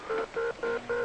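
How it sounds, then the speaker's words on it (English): A spaceship's blastoff synchronizer gives four evenly spaced electronic two-tone beeps, clear and moderately loud in a brief rhythmic sequence. "that noise is our blastoff synchronizer"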